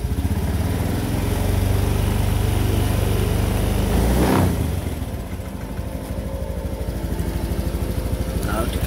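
A motorcycle engine runs loud and close, held at a steady rev under throttle, then drops to a lower idle after a brief surge midway through.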